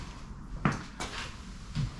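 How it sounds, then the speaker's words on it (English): Bottom door of a homemade portable cooler for moose or big game swinging open, a few close wooden knocks and clunks over a quiet room background. "this bottom door here,"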